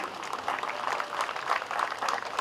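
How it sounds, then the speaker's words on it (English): Graduation audience applauding, a fairly steady patter of clapping from a crowd that carries on throughout with a few louder swells. "and we can clap again"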